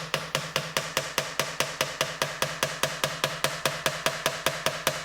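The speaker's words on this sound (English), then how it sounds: "just lightly tap with a hammer a few times in the middle" Steady, rapid light hammer taps through a wooden block seating a fret on a Jazz Bass guitar neck, about four per second, evenly spaced and close, with a faint hum underneath.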